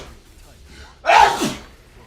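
One hard, explosive sneeze bursts out loud and close after a quiet moment, a sharp broadband blast that trails off quickly.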